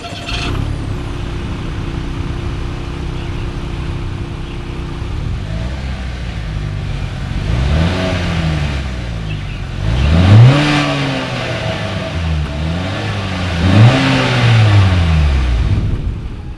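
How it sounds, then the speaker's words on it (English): A 2020 Acura RDX SUV engine idles low, then revs up sharply several times through the dual exhaust, each rev rising and falling, loud and close. "As always, here is that exhaust clip."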